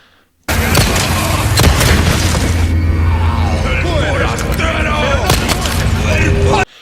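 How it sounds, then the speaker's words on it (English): A dynamite blast in the Resident Evil 4 Remake game. A loud boom hits suddenly and trails off into ongoing game noise with sharp bangs, while a voice speaks over it. "he's throwing the Molotov, or I mean the dynamite"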